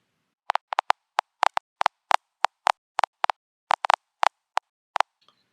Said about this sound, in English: let's just take a listen at what it's like when an electron hits a detector like this